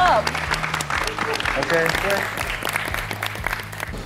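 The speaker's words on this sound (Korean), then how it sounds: "마지막 다시 한번 박수 한번 쳐줄까요?" Audience applause rises steadily and carries on at a strong, even level, with a voice speaking over the clapping.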